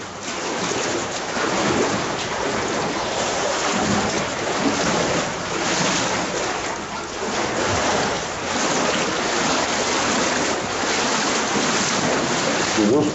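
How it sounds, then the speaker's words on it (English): Broad, steady rush of flowing water echoing inside an underground water tunnel, a dense roar that swells and dips slightly without breaks. "We're in the water tunnel"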